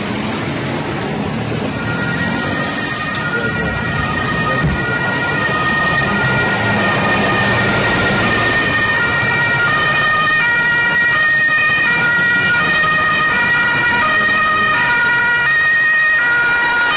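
An emergency vehicle siren wails loud and steady over traffic noise, its rising and falling tones repeating throughout as it stays close.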